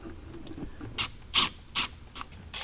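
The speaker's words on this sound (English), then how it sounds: "And get one screw started." A screw being driven by hand to mount a 6.5-inch soundbar speaker pod in a 2021-or-later Ford Bronco: several short, loud ratcheting bursts in an uneven rhythm, close up, with no talking.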